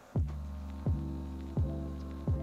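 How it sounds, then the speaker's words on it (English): A printer repeats the same cycle of noise, four evenly spaced low thumps, each followed by a steady droning hum, moderately loud, with no talking. "Printer's making noise again."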